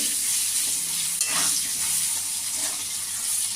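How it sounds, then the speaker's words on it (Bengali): Potatoes frying in a pan and being stirred, a loud continuous sizzle broken by scraping stirs of a spatula, close by and with no talking. "এবার আমি আলুটাকে লাল লাল ভেজে নেব"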